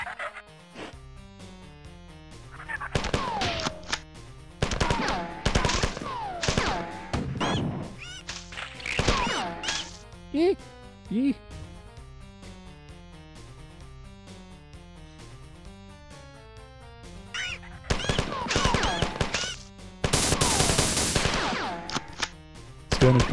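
Gunfire from a weapon in the Marathon first-person shooter game, sharp bursts and single shots scattered among game effects and quacking creature sounds, with quieter stretches between volleys.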